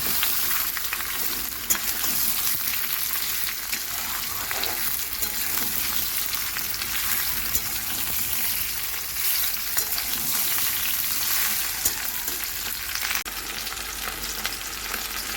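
Washed, split jujubes with half a teaspoon of panch phoron sizzle steadily in a pan for pickle, a dense, continuous frying hiss with faint stirring scrapes and no talk.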